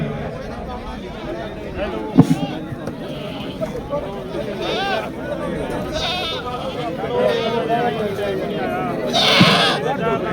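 Barbari goats bleat at a four-tooth goat competition during a village goat fair. The repeated wavering cries rise over constant crowd chatter, and people talk loudly throughout.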